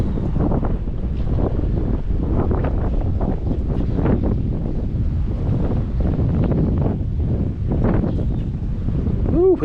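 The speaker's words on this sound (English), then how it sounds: "Ooh, is it windy? Windy." Wind gusts across a lake while someone fishes from a boat for bass, a steady close rumble of buffeting on the microphone with irregular surges, and faint sounds like voices beneath it.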